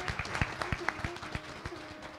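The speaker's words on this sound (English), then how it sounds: "let's give a big round of applause to our musicians this morning" Applause for the kirtan musicians at a Sunday morning service: a steady, fairly even round of claps with a few sharper hand strikes standing out, and faint voices and room tone underneath.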